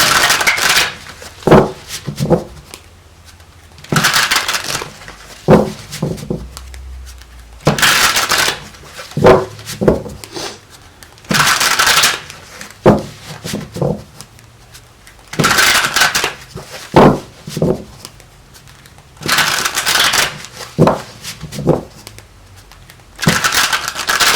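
A worn, bent tarot deck shuffled by hand in repeated bursts of papery riffling and slapping, each lasting a couple of seconds with brief pauses between, close and loud with no talking.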